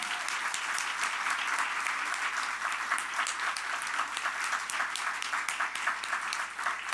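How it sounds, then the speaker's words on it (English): An audience at an awards gala gives a steady round of applause, dense clapping that runs evenly throughout at moderate distance, with no voices standing out. "please join me again in a warm round of applause"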